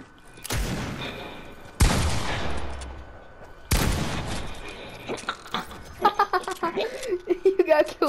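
Pistol shots in Fortnite: three loud, close cracks spaced roughly two seconds apart, each trailing off, followed by a busy stretch of game sounds and voices talking.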